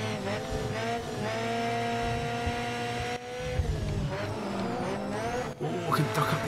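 Touring cars racing bumper to bumper in the BTCC mode of Grid Autosport on Nintendo Switch, with loud, steady engine drone and revving, several overlapping cars, and brief tyre squeals near the end of the lap.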